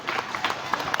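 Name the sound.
applause at a children's sports event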